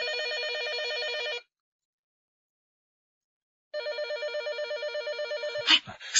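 An old-style telephone bell rings in a Chinese police radio drama: one long burst, a pause of about two seconds, then a second ring that ends in a brief clatter as the receiver is picked up.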